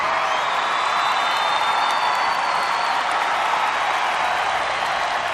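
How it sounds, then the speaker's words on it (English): Audience applause fills a hall at a company founder and CEO's event, steady and dense clapping with scattered whoops and cheers, sustained loudly and evenly throughout. "Everybody, just give them all a round of applause"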